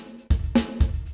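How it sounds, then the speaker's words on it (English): A built-in drum machine on a Flamma E1000 intelligent guitar plays a short beat, with punchy kick thumps and a bright snare crack against a steady ticking cymbal pattern, all close and fairly loud. "And you also have a drum machine which sounds like this."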